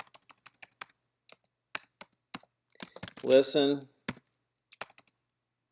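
Computer keyboard typing in scattered bursts of sharp close key clicks, with a short spoken word in the middle.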